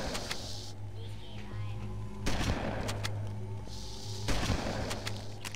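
Gunfire and grenade blasts in the Halo video game, with sharp loud bangs spaced a couple of seconds apart over a steady low game hum, and a voice talking faintly in German.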